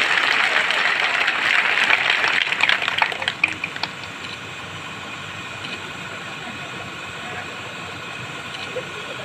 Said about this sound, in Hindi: अरे मुझे तो बुंदेलखंड की ताली सुनाई देनी चाहिए,